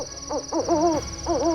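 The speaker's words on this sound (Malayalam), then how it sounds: "അപ്പോഴേക്കും ഒരു പക്ഷിയുടെ ശബ്ദം അവരുടെ കാതുകളിൽ വന്നു." A cartoon magic owl hoots in a string of wavering, bird-like calls with short pauses between them, loud and close over a faint steady tone, with nobody talking.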